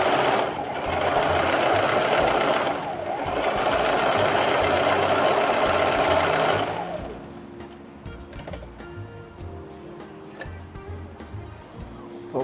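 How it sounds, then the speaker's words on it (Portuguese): A sewing machine runs a zigzag seam on a cotton ruffle, a loud steady mechanical whir for about six seconds with one brief slowdown, then it stops, leaving softer handling and rustling of fabric. "Aí vou fazer a outra costura aqui do lado. Aqui vou fazer o zigue-zague."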